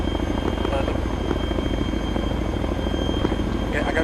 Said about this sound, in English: Okay, I gotta try to rest the chopper down